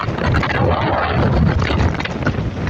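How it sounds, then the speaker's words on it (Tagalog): Strong typhoon wind roars and buffets loudly and continuously, with heavy rumbling gusts and no voices. "napakalakas pa talaga ng hangin"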